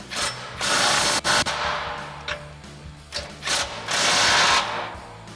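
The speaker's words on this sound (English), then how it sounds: "So we've got our 24mm socket on our impact and 24mm socket on our ratchet." Impact wrench with a 24mm socket and a hand ratchet tightening front bumper mount bolts on a 2019-2026 RAM 2500 HD, loud close bursts of hammering whir separated by brief pauses and quieter ratchet clicks.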